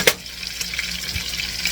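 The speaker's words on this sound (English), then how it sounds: "I'm going to add a little bit of water to that" Water is poured into a blueberry chicken sauce in a pan, giving a soft continuous splashing and trickling with a faint sizzle, close and alone.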